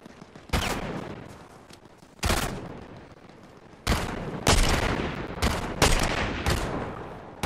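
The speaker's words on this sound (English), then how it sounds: "Got a fucking DMR with a sniper scope on it." Gunfire from a DMR rifle fitted with a sniper scope in the Fortnite video game, with sharp loud shots at irregular intervals: single cracks early, then a tighter cluster of rapid shots near the end, no talking.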